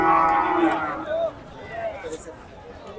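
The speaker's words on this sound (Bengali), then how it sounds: "আমরা একটা বাছুর দেখতে পাচ্ছি" A Sahiwal calf moos loudly and close by at a cattle market in Badarganj, one drawn-out call at the start that fades, with people talking and market chatter around it.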